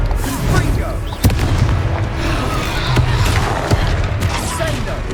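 Confringo spell blasts go off in the video game Hogwarts Legacy, with a couple of sharp booms and crackling impacts over a dense, noisy game soundscape, while a player's voice talks over the action.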